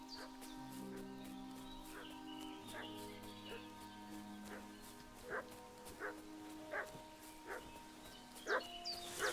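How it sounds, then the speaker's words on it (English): A dog in the medieval action role-playing game Kingdom Come Deliverance II barks in short, repeated bursts at a moderate distance, growing more frequent over a sustained low musical drone. "What's that dog making such a fuss about?"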